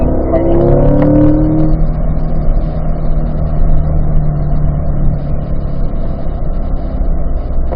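A car lapping a track at a performance driving school, its engine loud and close, rising briefly in pitch, then holding a steady throttle roar with road and wind noise while cornering.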